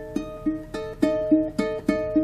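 Ukulele notes plucked in an alternating pattern, a dissonant tritone interval repeated several times with clear bright attacks, close and alone, with no talking.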